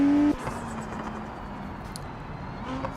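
Race car engine in the BeamNG racing game at the Barcelona circuit, a steady moderate whirring drone after a brief loud tone at the start, with no talking.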